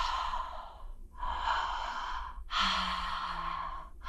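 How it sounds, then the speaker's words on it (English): A woman demonstrates deep breathing into the body, with three long, loud, breathy exhalations close to the microphone, each followed by a short pause and no words. "So if I start breathing into my body like this"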